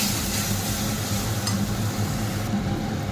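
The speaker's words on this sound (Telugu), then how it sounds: "కొద్దిగా ఇంగువ వేసుకుందాం," Asafoetida sizzles in hot oil for mango pulihora, a steady close crackling fry with light stirring and no talk.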